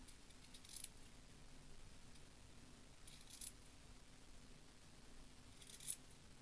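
Three crisp, faint snips spaced a few seconds apart as scissors notch the fabric seam allowance around a blouse collar, in a quiet room with no talking.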